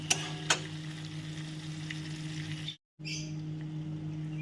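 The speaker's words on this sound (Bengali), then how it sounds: "তো দিয়ে দিলাম মশলার মধ্যে আলুগুলো। 3 থেকে 4 মিনিট মতো একটু ভাজা করে নাও" Potatoes frying in a spice masala, in a pot also used for a Gondhoraj lemon katla fish curry: a steady, even sizzle with a couple of brief clicks near the start and a short silent gap, no voices.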